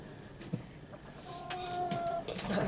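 Newly arrived poultry chickens cluck softly in a coop, scattered short calls and a few drawn-out tones rising over quiet background rustle.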